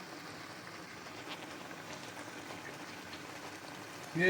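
Dumplings boiling in a pot of water, a steady bubbling and hissing simmer heard close and continuous, with a brief louder clatter at the very end.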